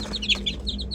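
Fourteen-day-old chicks peeping and clucking in a pen, a steady cluster of short, bright calls close by over a low background hum, with no talking.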